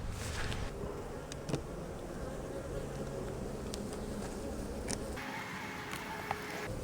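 Honeybees buzzing in an opened beehive during a nuc split and hive swap, a steady dense hum filling the whole stretch with a few sharp clicks and knocks from handling the frames.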